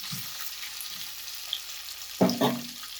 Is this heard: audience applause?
no